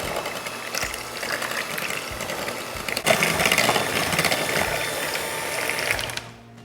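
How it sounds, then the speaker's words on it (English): Pumpkin puree is mixed in a mixing bowl, likely by an electric mixer, a continuous whirring mechanical drone that grows louder partway through and then stops near the end, with no talk. "I'm gonna add that to the mixing bowl as well. And let's mix this up."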